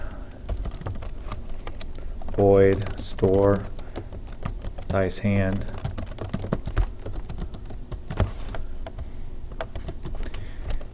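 Computer keyboard keys clatter in quick, uneven bursts as Java code is typed, the clicks running steadily under a voice explaining the program.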